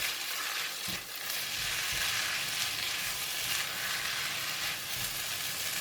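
Mee goreng noodles with tofu sizzle steadily in a pan while being stirred, a continuous close frying hiss broken by a couple of soft scraping knocks of the utensil.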